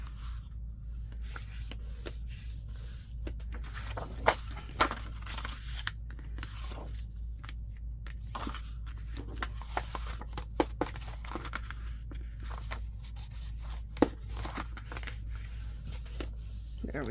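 Sheets of paper for a handmade junk journal wallet are folded and creased by hand, giving soft rustling and scattered sharp crinkles and taps that recur steadily, close and quiet.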